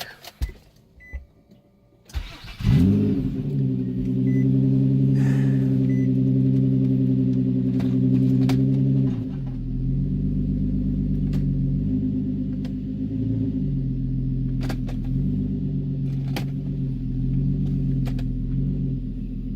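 A Nissan Maxima with a 5.5 setup cranks briefly and fires, then settles into a loud, steady close idle with a drone that dips partway through and slight ticks, no talking.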